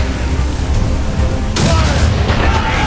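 Ship cannon fire in the Assassin's Creed Rogue naval intro, booming under shouted voices, then a sharp loud blast about halfway through followed by crackling debris and lingering rumble.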